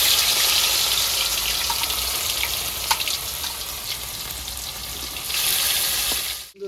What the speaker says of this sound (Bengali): আমি ভেজে নেবো, দিয়ে দেবো সর্ষের তেল